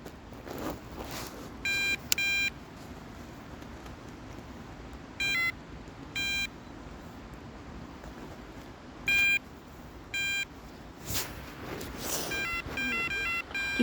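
Electronic bite alarms from TMC on a riverbank chirp in short tonal bursts, several separate beeps spaced a few seconds apart and a quicker run near the end, over steady outdoor background noise.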